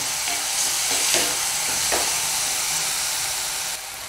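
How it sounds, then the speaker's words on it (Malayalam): A potato curry base with turmeric sizzles in a pan and is stirred in a few scraping strokes, a steady close frying hiss throughout that drops slightly near the end. "അപ്പോൾ ഇത് നല്ലവണ്ണം ഒന്ന് മിക്സാക്കി എടുക്കാം."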